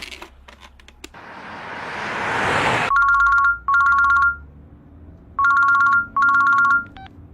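A mobile phone rings with a loud, bright electronic ringtone in four even bursts, split into two pairs by a short gap, after a swelling rush of noise and a few clicks, with no talking.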